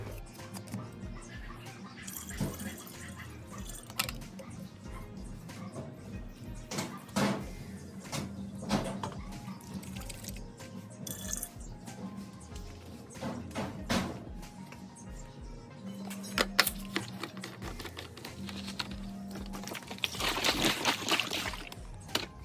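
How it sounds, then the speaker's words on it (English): An orchid fertilizer mixture is poured from a cola bottle into a water pump sprayer holding a gallon of water, a faint intermittent trickling and sloshing with small plastic knocks and handling sounds over about twenty seconds. "Then I'll add this to my water pump sprayer with 1 gallon of water."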